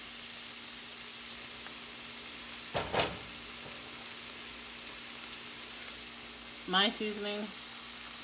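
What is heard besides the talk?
seasoned meat sizzling in a pan for chopped cheese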